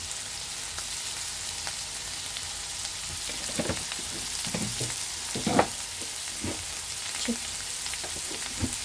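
Chicken frying in a pan with masala and fresh coriander, a steady close sizzle throughout with scattered louder crackles and spatters, no voices.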